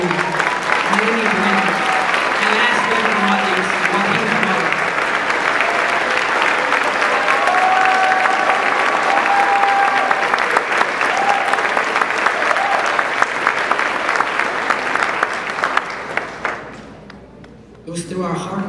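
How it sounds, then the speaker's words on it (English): A graduation audience at the Uplift Atlas Class of 2023 ceremony breaks into sustained, dense applause for a graduate, steady and loud for most of the stretch, with faint voices and cheers mixed in before it thins out near the end. "please join me in giving a round of applause to Joanna Ventura"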